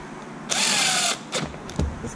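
A power driver spins screws into the motor mount of an Arrma Infraction V2 RC car, one half-second whir followed by two short bursts, close up and fairly quiet.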